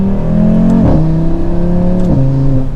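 An Audi RS3 accelerating hard in performance mode, heard from inside the cabin, its engine note rising steadily in pitch, dropping at each gear change and climbing again, loud and continuous with no talk.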